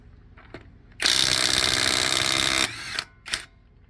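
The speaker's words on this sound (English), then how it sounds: "I'm gonna go ahead and see if it'll break a lug nut on this Jeep" A Somada impact wrench with a 22 mm socket breaks a lug nut loose on a Jeep wheel in one loud, harsh burst lasting under two seconds. A few short clicks and a brief whir come before and after the burst.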